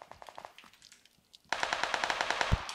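Gunfire in PUBG: sparse single shots at first, then a sustained burst of rapid automatic fire, loud and close, with one heavier thump near the end.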